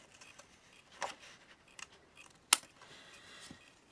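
Scissors cutting paper for a craft pocket and tags: a few quiet, close snips spaced irregularly, the sharpest in the middle, over a near-silent room.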